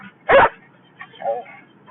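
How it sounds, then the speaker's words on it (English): Dog barking from inside a moving car at passing traffic, one sharp close bark followed by a softer yip or whimper in a quiet cabin. "Boo likes to bark at cars going by"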